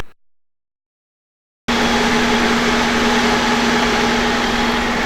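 An Alexander Dennis-bodied Volvo B5LH parallel hybrid double-decker bus idles, a steady close engine hum with a constant low tone, starting abruptly after a moment of silence.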